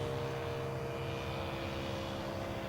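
Engine of a 40% scale Jungmeister aerobatic model biplane drones steadily in flight at half throttle, a constant buzzing hum heard from a distance without pause.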